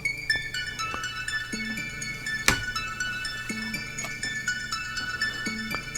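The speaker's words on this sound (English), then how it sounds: "that's the sound of the music coming from the laptop itself." Music plays quietly from a laptop's built-in speakers, a thin, tinny rhythmic pattern of repeating plucked notes and light beats with one sharp click partway through.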